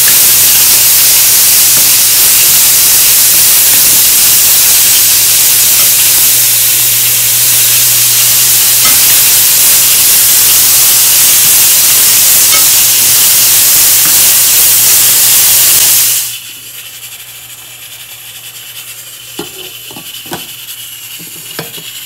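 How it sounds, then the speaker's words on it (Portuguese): Food frying in a pan gives a loud, steady sizzling hiss that fills the first sixteen seconds, then drops abruptly to near quiet with a few faint clicks and knocks. "Já começou a fritar."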